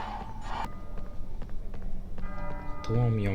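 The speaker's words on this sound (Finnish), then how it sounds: "Tuomion kellot soi." Bells ring in the Harry Potter and the Philosopher's Stone game on PS1, with sustained ringing tones building toward the end over a busy mix of game sounds and faint background chatter.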